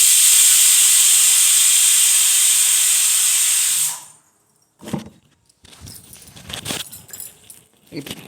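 A pressure cooker on a stove vents steam in a loud, steady hiss for about four seconds, then cuts off abruptly. Kitchen clatter and movement follow.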